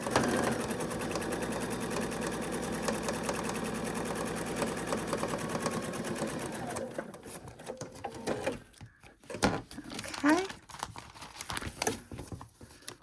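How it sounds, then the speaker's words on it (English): Sewing machine stitching a quilt block, a fast, even, close mechanical whir running steadily for about seven seconds, then stopping into quiet handling sounds and light rustling. "now I'm going to sew right along here"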